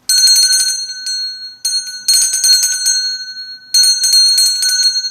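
A small hand bell, standing in for a Tibetan bell, rings close and bright with a sustained high metallic tone, shaken in several quick bursts with brief gaps between them.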